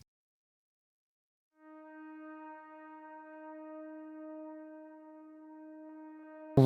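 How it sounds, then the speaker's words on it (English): A soft sustained synth pad from an Ensoniq SQ80 holds one steady chord alone at low level, entering after a short silence and ending with a brief louder burst. "I also wanted some kind of little background pad."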